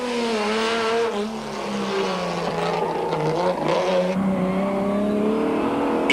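Nissan Skyline rally car accelerating hard through the streets of Ventersdorp during a 1990 rally, its engine note climbing through gears with a brief drop at a shift, loud and close throughout.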